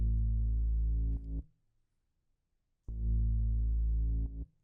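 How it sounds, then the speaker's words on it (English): A from-scratch synthesized sine-wave bass with unison, distortion and compression plays two sustained root-note tones, each about 1.5 seconds, separated by a gap of near silence. "the bass, which I made completely from scratch. It's just a sine wave"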